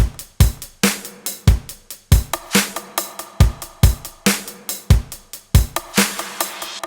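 In the second breakdown of an electronic track, a driving drum beat of hard kicks and crisp percussive hits locks into a brisk, regular rhythm, loud and dry, with nobody speaking.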